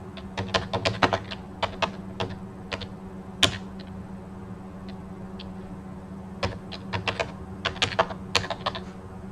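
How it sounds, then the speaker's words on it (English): Quick, close clicks of a computer keyboard as a command is typed into a Raspberry Pi 5 terminal, coming in short bursts with pauses and a single harder key strike, over a low steady hum. "So if I type raspi-configure"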